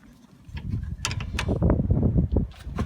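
A wrench tightens the nut on a Volvo XC70 front shock, with a run of close, loud metallic ratcheting and clanking mechanism noises that builds up and continues unevenly.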